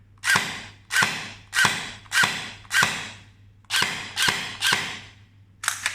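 An XYL ARP9 gel blaster with electronic blowback and battery installed fires semi-auto, nine sharp mechanical snaps with brief decays, evenly spaced over steady low hum.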